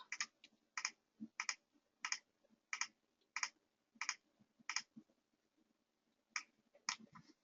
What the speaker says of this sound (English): I'm just going to click the move up button and move this up towards the top.